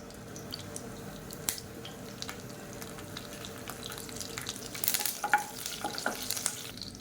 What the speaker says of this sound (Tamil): இப்போ இது எல்லாமே நல்லா பொரிய ஆரம்பிச்சிருச்சு.